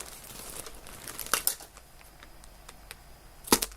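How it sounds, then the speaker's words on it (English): Plastic packaging around a mill-end pack of yarn crinkles in soft, irregular bursts close by. The sharpest rustles come near the start and the end, with no voice. "sorry about the crinkles"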